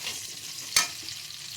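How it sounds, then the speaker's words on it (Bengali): Vegetables for fried rice, including beans and capsicum, frying in oil with a soft, steady sizzle and one sharp utensil clack partway through. "সব এখন ভাজাভুজি চলছে।"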